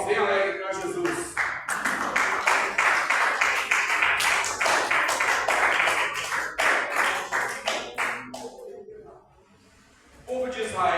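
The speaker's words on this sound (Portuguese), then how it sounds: "E as palmas bem alegres para Jesus." A church congregation at a worship service claps joyfully in rhythmic, evenly spaced beats, loud and close, with some voices mixed in, before the clapping briefly drops away near the end and resumes.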